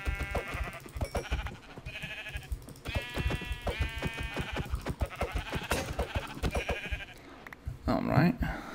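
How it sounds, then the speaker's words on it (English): Sheep bleat repeatedly in a Minecraft hardcore-mode world, several short wavering bleats spaced apart against game background sound, with no voices over them. "Oh, I see some sheep."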